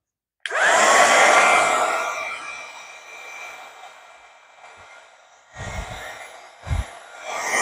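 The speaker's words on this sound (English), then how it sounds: "let's get the embossing gun" Embossing heat gun switching on with a sudden loud blowing roar and whine that gradually settles and fades, followed by a few faint knocks and handling sounds.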